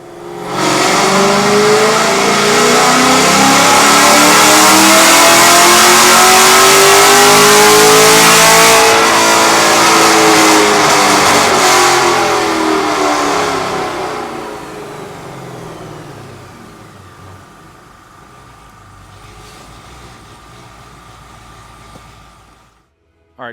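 A Gen V Camaro with upgraded heads and cam revs hard through a tuning pull, a loud rising engine roar that sweeps up, holds, then winds down to a quieter idle.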